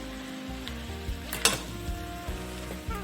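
Stir-fry vegetables sizzle in a hot pan with sauce while being stirred, a steady close crackle broken by repeated scraping and clattering strokes of the utensil.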